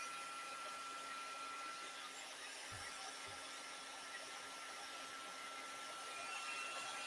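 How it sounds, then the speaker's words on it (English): A heat gun heating craft material during a crafting session blows a steady, faint hiss of airflow throughout, with a couple of soft knocks partway through. "my heat gun is hot. I'm going to go ahead and heat this on camera so you can see it."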